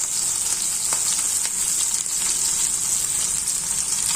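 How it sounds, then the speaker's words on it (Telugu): Onions and green chillies frying in a pan, giving a steady, close hiss of bright sizzling with faint stirring scrapes, continuous and alone without speech. "ఉల్లిపాయ, మిర్చి అన్నీ కూడా వేగాయమ్మా"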